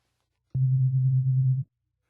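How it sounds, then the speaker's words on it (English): A steady pure synthesizer sine tone starts abruptly, holds evenly for about a second, then cuts off, leaving silence on either side. "Now we have a sine wave."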